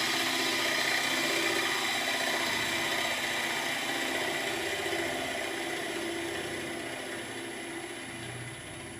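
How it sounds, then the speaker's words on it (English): Steady whirring drone of a wood lathe as a gouge turns the inside of a wormy sycamore bowl, continuous and fairly loud with a broad hiss of cutting throughout, easing slightly toward the end. "I get a continual flow of shavings as I'm doing the inside of a bowl"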